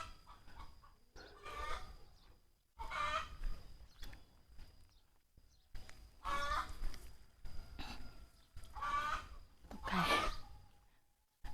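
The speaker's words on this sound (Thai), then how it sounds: "ไก่ตัวนี้กำลังจะออกไข่แล้ว" Several bursts of clucking from a hen about to lay an egg in a Thai village, close by, separated by short pauses, with a faint steady hum in the background.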